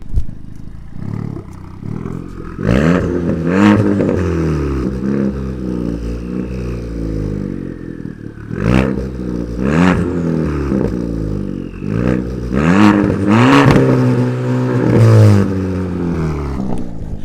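A straight-piped 2013 Ford Fusion EcoBoost four-cylinder turbo idles with a deep, loud exhaust rumble close by, punctuated by several sharp rev bursts; nobody speaks.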